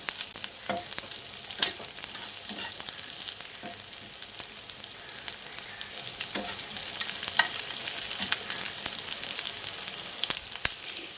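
Sliced onion sauteing in ghee and oil, a steady crackling sizzle with intermittent spatula scrapes and taps against the pan, moderately loud and close, without speech.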